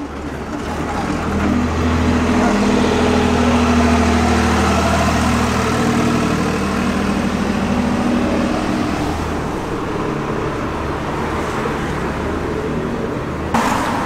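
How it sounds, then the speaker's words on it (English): A tractor engine idles and runs steadily at a Boxing Day car and steam meeting, a continuous low mechanical rumble holding fairly loud throughout with outdoor background noise and no clear talk. "I think I can hear a tractor."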